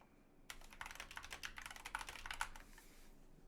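Rapid keystrokes on a computer keyboard while writing HTML, a dense run of close, crisp clicks that stops abruptly near the end.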